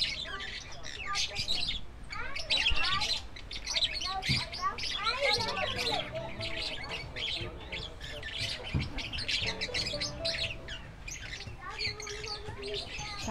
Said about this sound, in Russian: Птички поют, как красиво.